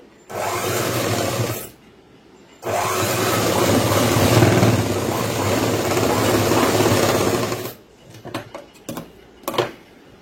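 A sewing machine stitches a boys' school uniform pant along marked lines, running in two loud continuous bursts with a short pause between, then stopping into a few faint handling sounds.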